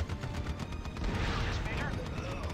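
Rapid gunfire crackles through a battle in Act of War: High Treason, dense overlapping shots and distant booms running continuously beneath game chatter.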